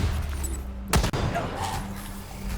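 A single sharp gunshot from a Wasteland 3 firefight rings out alone near the middle, loud and close, framed by low game ambience with no talk over it.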